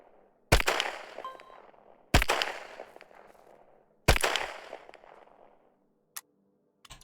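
Three loud, evenly spaced gunshots in the Stay Out video game, each a sharp crack followed by a long decaying echo, then a faint click.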